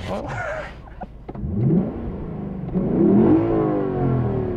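A Lexus LC500 engine revs up twice, rising in pitch and loudness, close by with a rough, throaty tone.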